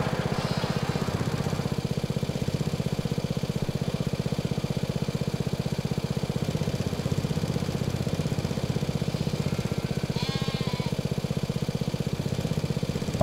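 A mower runs in the farming game Farming Simulator 22, a steady droning engine with a rapid rhythmic pulse that holds loud and even throughout, with a brief higher tonal blip near the end.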